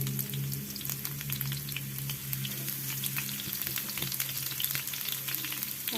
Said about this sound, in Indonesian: Kemudian setelah panas, lalu masukkan bawang merah yang sudah diiris tadi.